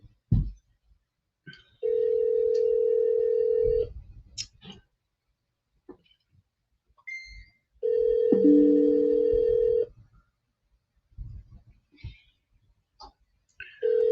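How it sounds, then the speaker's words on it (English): Long steady ringback tones on a phone call, two clear rings several seconds apart, with quiet clicks and handling noises in the gaps. "Can you hear it ringing?"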